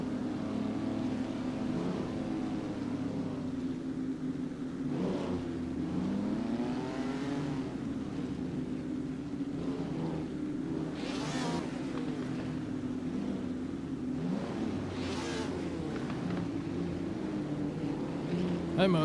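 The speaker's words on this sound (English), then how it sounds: "Hear those engines rev." Race car engines in a sim racing game at Silverstone drone and rev steadily throughout, a continuous buzzing whine with occasional rises in pitch, moderately loud without speech over it.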